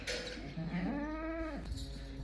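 A goat bleats once in a long wavering call, close and fairly loud, at a farm where a pregnant goat is being checked; there is no speech.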